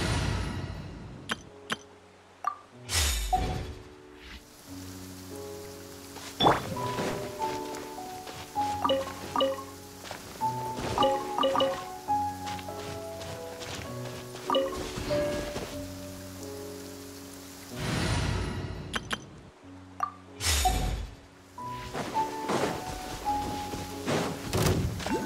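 Footsteps through heavy rain in the game Genshin Impact, steady patter of raindrops on surfaces with soft thuds and clinks, punctuated by louder bursts, fairly quiet overall.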